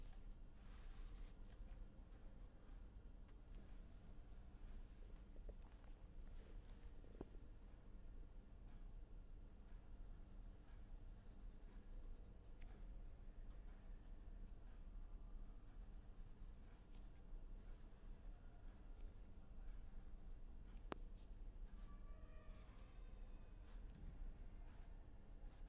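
A beam cross-section being drawn on a lecture board: faint, quiet scratching strokes and light taps continue on and off, with no voice over them.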